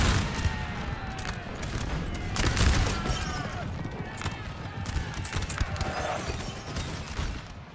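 Cannon fire from artillery in a Napoleonic-era battle in the video game Napoleon Total War 3, with repeated sharp booms and crackling volleys layered over a busy battlefield din, while someone talks over it.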